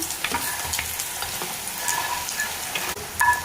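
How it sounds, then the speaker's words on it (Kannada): Food frying in hot oil in a pan in a home kitchen, a steady, close crackling sizzle with occasional stirring scrapes and no talking. "ಇಷ್ಟು ಫ್ರೈ ಆಯ್ತು, ಇನ್ನೂ ಫ್ರೈ ಆಗಲಿ."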